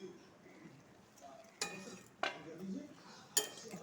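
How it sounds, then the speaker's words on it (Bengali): A metal lid comes off a pot of bottle gourd cooking with lentil dumplings, giving three sharp, close clanks spaced about a second apart over a quiet kitchen background. "এখন ঢাকনাটা খুলে দেখবো"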